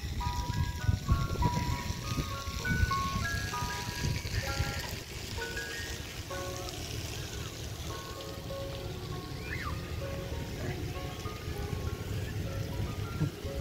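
The Snack Zoomies ice cream truck at a park plays its jingle, a looping tinkly tune that runs steadily from start to finish. It sounds moderately near over soft outdoor background noise.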